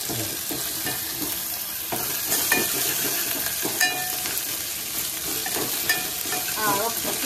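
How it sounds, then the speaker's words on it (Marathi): Curry leaves dropped into hot oil with garlic-ginger paste crackle and sizzle loudly up close, a bright steady spitting hiss with stirring strokes mixed in, no talking. "थोडासा कढीपत्ता टाकायचा."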